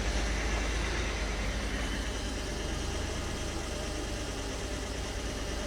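A Mercedes coupe engine idles at a low, smooth, steady rumble as it nears operating temperature, a constant close drone with no revving or voices.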